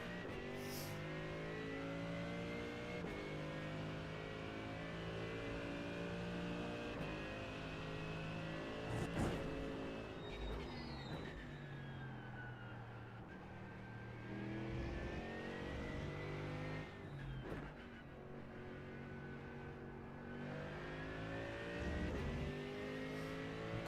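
Mercedes-AMG GT3 race car in iRacing at Sebring, its engine droning loud and steady with rising and falling revs through gear changes, sustained throughout with no gaps.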